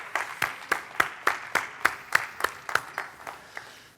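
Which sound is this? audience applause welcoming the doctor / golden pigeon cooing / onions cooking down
audience applause welcoming the doctor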